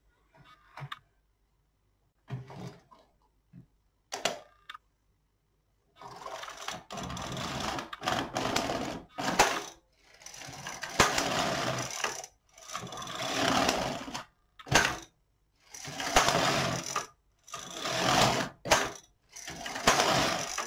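An LK 150 knitting machine carriage is pushed back and forth to knit rows over a few centre stitches, giving long whirring, rattling mechanical passes separated by short pauses, close and clear after a few sparse clicks at the start.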